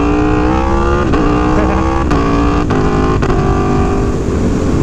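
An Aprilia Tuono V4 Factory motorcycle engine revs hard and loud throughout a wheelie, holding a steady roar with a few brief dips and surges in pitch as the throttle is worked.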